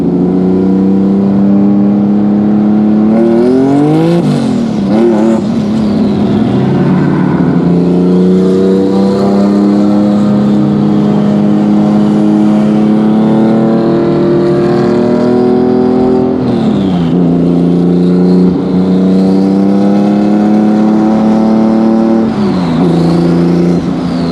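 A loud turbocharged flat-six engine in a Subaru WRX STI revs and accelerates continuously, its pitch climbing in waves, dropping briefly as gears shift, then rising again.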